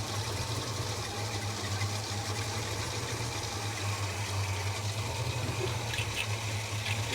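A Holden HK car engine idles rough and seems to be missing, producing a low, continuous throb with an uneven, faintly pulsing rhythm heard at moderate distance and with no talking.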